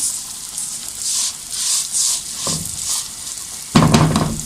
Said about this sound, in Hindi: हम सवैयों को लाल करके निकाल लेंगे। थोड़ा सा लाइट ब्राउन करना है इसको।